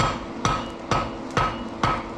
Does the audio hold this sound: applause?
no